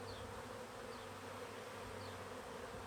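Honeybees hum steadily at an open hive during a second-month inspection while the frames are being spaced back together, a soft, continuous buzz with no voices.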